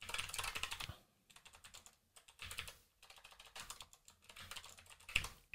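Quick clattering keystrokes on a computer keyboard come in several short bursts with brief pauses between them, close and quiet.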